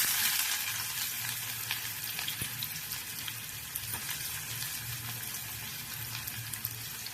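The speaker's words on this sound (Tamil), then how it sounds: "நல்லா வெங்காயம் ப்ரௌனாக வதக்கிடுவோம்." Steady, dense sizzling of chopped onions frying in hot oil, close up and continuous, with occasional small pops and no voices.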